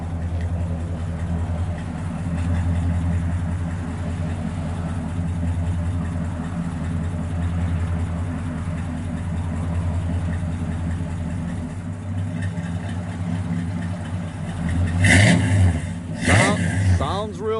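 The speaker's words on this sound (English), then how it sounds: "Sounds good out the exhaust." A 1966 Pontiac GTO LeMans engine rumbles through its exhaust at a deep idle with a few revs, while someone talks over it near the end.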